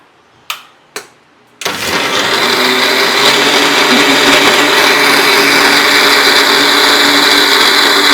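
Two sharp clicks, then a mixer grinder blending mint paste whirs loudly and steadily, a constant high motor roar with no voices.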